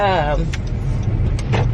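A truck rolls past on a road during Hurricane Harvey, a steady low rumble filling the clip close by inside a car, with someone speaking over it.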